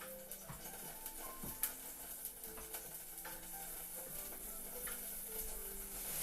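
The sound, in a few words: water evaporating and sizzling in a pan for chicken miso soup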